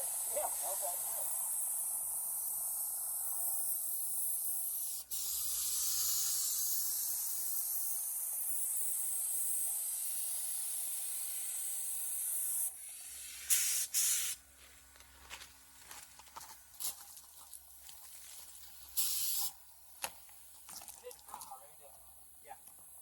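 A spray gun hisses steadily for about twelve seconds while coating a 1966 Ford Travel Wagon, followed by short bursts of spraying, with people talking nearby.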